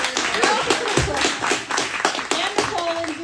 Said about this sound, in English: And if everybody could give a huge round of applause for Kristin Wollett.